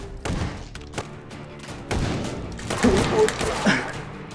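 Gunfire in the VR video game Half-Life: Alyx: a string of sharp shots and thuds at irregular intervals, with a denser, louder burst of firing near the end.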